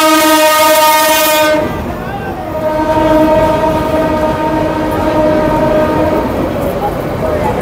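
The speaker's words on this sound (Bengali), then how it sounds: "ট্রেন আসছে পিছনে।" A train roaring past close by a street jhal muri stall in Bangladesh, opening with a loud sustained horn blast, then heavy rumbling and rattle of the cars continuing to the end.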